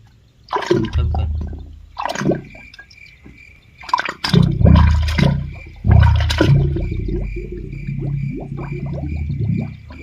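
Water gurgles and rushes into a small bottle lowered down a borewell, coming in loud bursts with a steady hiss between them.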